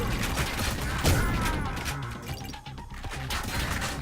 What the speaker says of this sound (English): these bouncing grenades are incredible